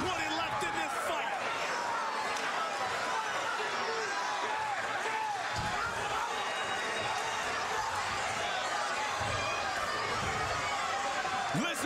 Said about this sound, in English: Listen to this crowd in Philadelphia